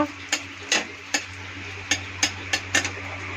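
Dried chillies and bay leaf sizzling in hot oil: a soft steady fry hiss with a few sharp spoon taps against the pan, close by.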